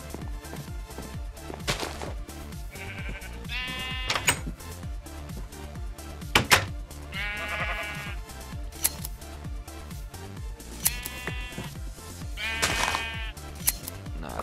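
Sheep in Minecraft bleat repeatedly in short wavering calls over a busy game soundscape with clicks and knocks, several bleats spaced a couple of seconds apart, loud and close.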